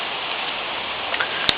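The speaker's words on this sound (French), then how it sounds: "pour l'instant, il pleut sans discontinuer" Steady rain falls in Georgetown, Washington DC, during Hurricane Sandy in October 2012, a constant even hiss with a single sharp tick near the end and no talking.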